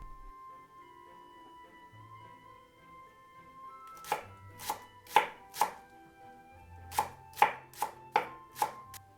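A knife chops spring onions on a cutting board for beef patty dumplings, a run of about a dozen crisp, close taps in two quick groups after a quiet start.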